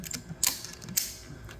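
Crank mechanism on a homemade stretching table being turned to tension a Newman Roller screen-printing frame, giving soft ratcheting clicks and creaks with two sharper snaps, quiet and close, no talking.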